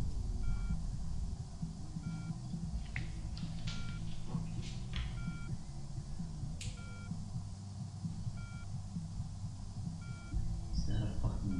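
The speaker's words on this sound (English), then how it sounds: "That beeping sound." Faint electronic beeps from beneath a table, feared to be a bomb, repeat about once a second at a steady pace under a low ambient rumble, with a few brief higher sounds scattered through.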